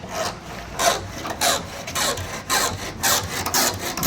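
Thin steel wire drawn back and forth like a saw to cut away an old, broken car windshield, giving a repeated raspy scraping in regular strokes about twice a second, close and fairly loud with no talking.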